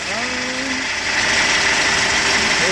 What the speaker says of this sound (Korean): 자, 시동 걸어놓고요.